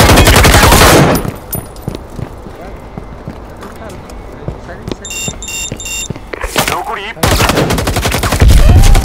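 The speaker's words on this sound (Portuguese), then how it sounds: "errei o tiro no cara do Dardinho, você viu, velho?" Bursts of rapid automatic gunfire crack loudly at the start and end of a Firewall Zero Hour match, with scattered single shots and footsteps in the quieter stretch between, plus a brief electronic tone.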